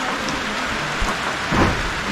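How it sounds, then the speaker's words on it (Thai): Heavy rain falls steadily at a rural home, a dense continuous hiss of drops on surfaces, close and even, with a faint low rumble near the end. "ฝนตกตลอดนะทุกคนมาบ้านนี้นะ"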